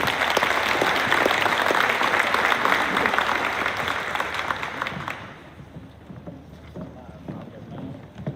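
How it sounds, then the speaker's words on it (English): An awards-evening crowd applauds the men's and women's track team, full and sustained at first, then thinning and fading to scattered claps after about five seconds. "Please give a round of applause to our men's and women's track team."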